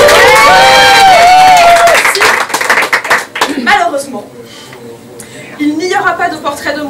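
Guests at a workplace Christmas party cheer and clap loudly while a voice calls out over the crowd noise, and the clapping and chatter fade into louder talk.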